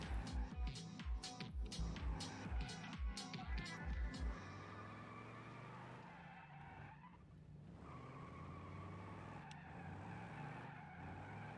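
Tires screech and skid as a car drifts in a racing video game, with engine revving in rapid pulses at first, then sustained squealing and engine drone, mixed with some talk.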